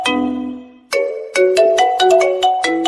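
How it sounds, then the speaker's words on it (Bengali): A mobile phone rings with an incoming call, playing a loud, close melodic ringtone of repeated bright tones after a short opening note, with no one talking. "এখন আবার কে ফোন করছে?"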